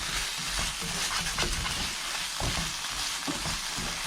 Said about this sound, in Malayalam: മല്ലിപ്പൊടി കുറച്ച് സമയമെടുത്ത് വേണം വഴറ്റി കൊടുക്കാൻ